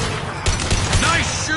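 Gunfire in the video game Mass Effect: a few sharp bursts of shots in quick succession amid combat noise, with voices talking over it.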